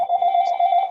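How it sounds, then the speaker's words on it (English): A phone rings with a steady electronic tone, loud and close, lasting the full second with no talk over it. "I'm sorry about my phone here."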